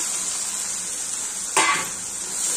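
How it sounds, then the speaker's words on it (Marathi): Guar beans fry with onion-garlic masala and salt over a low gas flame, a steady close hiss of sizzling oil broken once by a sharp clink of a spoon against the pan. "याला 2 मिनिटं स्लो गॅसवर फ्राय करून घेऊया।"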